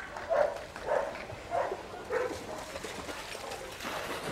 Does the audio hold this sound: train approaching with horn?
no